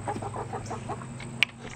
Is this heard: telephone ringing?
no